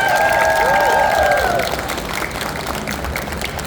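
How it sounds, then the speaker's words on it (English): A convention panel audience at Nostalgia Con Houston applauds Naruto voice actors, loud crowd clapping and cheering that starts strong and slowly thins out, with a voice talking over the opening moments. "how about a round of applause for the 3 OGs?"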